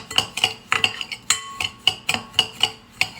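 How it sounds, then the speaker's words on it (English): A spoon scrapes and clinks against a bowl while breadcrumbs are stirred with olive oil, giving roughly a dozen sharp, close strokes in an uneven rhythm with no talking. "we just want to mix this together until it's moistened, kind of like wet sand"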